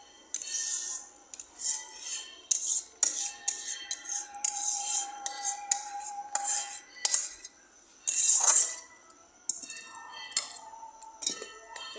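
Homemade tomato ketchup, made without added colouring, poured from the cooking pan into a container, with clinks and scrapes of metal utensils against cookware and brief soft sloshing, close and continuous.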